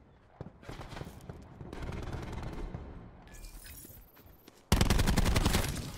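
Gunfire from the Call of Duty Black Ops 4 multiplayer video game, with bursts of rapid shots and a loud automatic volley near the end, under game effects.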